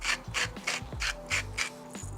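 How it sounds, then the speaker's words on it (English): Salt grinder cranked over soup beside a Kamado Joe grill, six rhythmic ratcheting grinds with crunchy rasping, close and fairly loud, with no voices. "So good grinding of salt"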